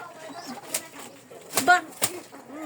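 Soft pigeon cooing and low burbling calls nearby, with a few brief flutters and rustles in a quiet setting.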